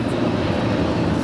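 A Japan Airlines Boeing 787-9 Dreamliner taxis toward the north side of Los Angeles International Airport, a brief, steady, loud engine rumble with no talk over it.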